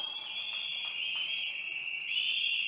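A single sharp, shrill whistle blast held steadily for nearly three seconds, rising slightly in pitch toward the end, heard alone.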